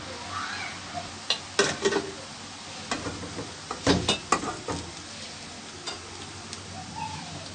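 Aloo bhujiya sev made from potato fries in hot oil over a medium flame, giving a soft, continuous sizzle with scattered sharp crackles and pops that spike irregularly and close up.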